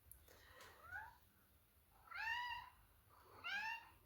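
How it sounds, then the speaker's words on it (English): An adult cat meows three times indoors, a short faint call followed by two longer, louder rising-and-falling meows spaced about a second apart, with no voices over them. "That's not my kitten, that's my other adult cat."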